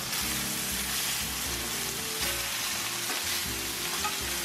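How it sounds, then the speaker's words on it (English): Meat searing hard in a hot pan for adobo, a steady dense sizzle and fry that holds loud and close throughout with faint clatter underneath, no voices. "So it's searing nicely."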